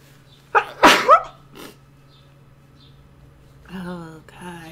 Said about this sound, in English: Oh, I want to sneeze again.